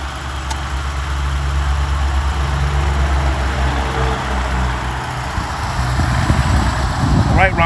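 A Jeep Cherokee's 3.6-liter engine idles with a steady, close, low droning hum, and a voice briefly starts up at the very end.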